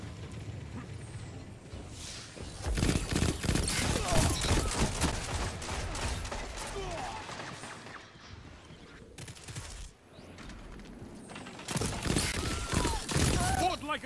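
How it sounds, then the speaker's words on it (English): Repeated shots from the Last Hope sidearm in Destiny 2, rapid bursts of sharp gunfire in clusters with brief pauses between them, moderately loud with no talking over it. "If you haven't gotten to hear how this gun sounds yet, go ahead and take a listen for the next few seconds."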